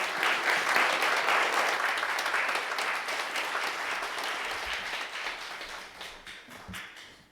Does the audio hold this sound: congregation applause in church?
yes